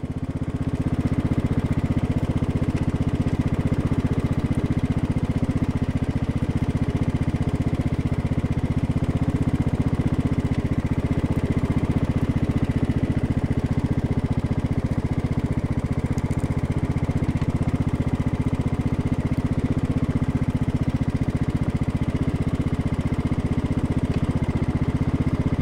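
A modified wood tractor's small engine runs continuously and loudly near the listener, holding a steady droning throttle for the whole stretch without a break.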